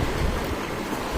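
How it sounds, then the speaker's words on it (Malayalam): Ocean surf along a Maldives shoreline washes in as a continuous broad rushing hiss with a low rumble, steady and close, with no voices. "ഇത് കണ്ടോ, അലയടിച്ച് കയറി വന്നിട്ട് ഒരു കുഴിക്കകത്തോട്ട് വെള്ളം ഇറങ്ങി പോണ കണ്ടോ"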